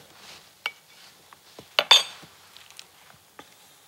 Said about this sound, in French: À l'aide d'une cuillère, je place environ 1 cuillerée à soupe du mélange de viande sur chaque pain.